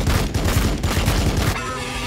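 Rapid bursts of automatic gunfire rattle loudly in quick succession, then give way to a brief ringing tail, in the video game Warhammer 40,000: Battlesector.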